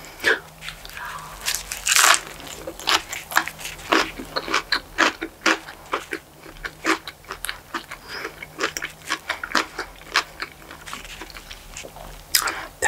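Crunchy bites and chewing of a spicy chicken sandwich with jalapeño, a rapid series of loud, close crackling crunches.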